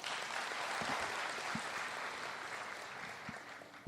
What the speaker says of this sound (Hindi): जोरदार ताली आपके लिए